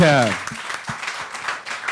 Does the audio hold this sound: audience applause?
yes